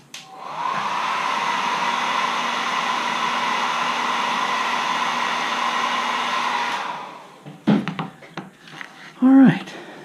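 A hair dryer drones loudly and steadily for several seconds to dry paint on a carved wooden caricature letter opener, then cuts off, followed by brief handling noises and a short voice.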